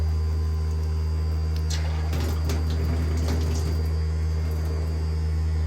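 A water pump runs steadily on an off-grid tiny home water hookup, pushing water through the lines with a constant hum and rushing flow throughout, loud and close.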